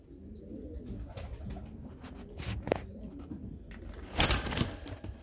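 A red Akbaş German Demkeş pigeon coos softly and steadily in a near, enclosed setting, with a few brief rustling flutters and louder bursts around the middle and end; no one speaks.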